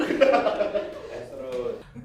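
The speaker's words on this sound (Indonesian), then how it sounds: "Udah mulai keluar nih batuknya." Coughing from a man who coughs often, a short rough burst with a throaty, laugh-like quality, close to the mic and loud.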